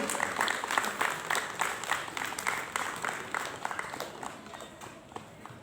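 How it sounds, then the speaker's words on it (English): Audience applause at a school Independence Day ceremony honoring top-ranked students, a steady patter of many hands clapping at moderate distance that gradually thins and fades. "Please keep the applause going."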